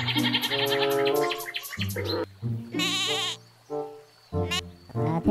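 A string of loud, close sheep bleats, some long and wavering, separated by short pauses.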